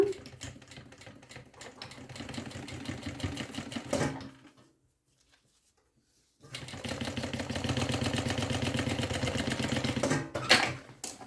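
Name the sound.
sewing machine stitching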